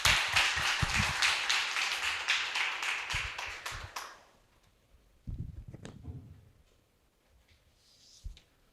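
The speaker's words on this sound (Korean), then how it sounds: "박수로 맞아주십시오" Applause from a forum audience welcoming a speaker, a burst of many hands clapping that fades out after about four seconds, followed by a few scattered taps and bumps in a quieter room.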